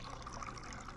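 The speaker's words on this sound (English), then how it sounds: "So it's still pouring." Liquid trickling into a cup in the game Job Simulator, a faint, steady pour with soft bubbling, brief and continuous.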